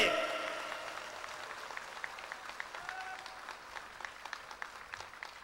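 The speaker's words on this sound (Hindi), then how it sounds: "जोर से ताली बजाओ, जोर से।" A devotional gathering at a Bhagavat Katha recitation claps together, the applause starting fuller and then thinning into scattered, sharper individual claps that carry on faintly, with a brief voice tone audible in the middle.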